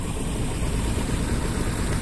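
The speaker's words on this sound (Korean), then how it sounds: "엔진 러닝. 엔진 러닝." A submarine engine in the video game I Expect You to Die runs at a steady idle, a continuous low rumble with a broad airy hiss on top, loud and unbroken throughout with no talking.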